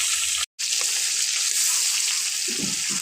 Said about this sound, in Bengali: বন্ধুরা দেখুন আমি ভালো করে লাল করে ভেজে নিচ্ছি।